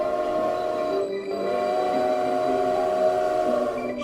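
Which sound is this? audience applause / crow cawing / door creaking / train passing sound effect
train passing sound effect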